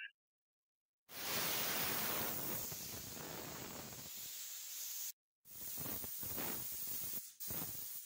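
Glue sprayed onto the lightly sanded roof of a 1968 Dodge Charger R/T before a vinyl top is fitted: a close, steady hiss runs for about four seconds, pauses briefly, then returns in a second long burst and a short final puff.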